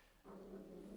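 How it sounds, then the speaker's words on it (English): A pet dog heard in the background of an indoor miniature-painting session, giving a short sustained growl or whine that starts a quarter second in and carries steadily to the end at moderate level. "if you can hear my dog in the background, I do apologise"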